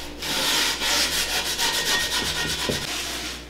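Steel wool and coarse salt scrubbed across a cast iron pan, a gritty rhythmic rasp with quick back-and-forth strokes, close and steady, with no talking.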